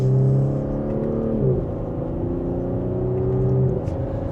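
A 349 hp Audi SQ5 Prestige accelerates in second gear in dynamic mode, its engine heard from inside as a steady loud drone whose pitch climbs, dips at a shift, then climbs again.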